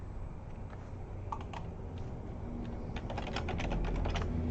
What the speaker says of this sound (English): I'm going to type in, for example, Clearwater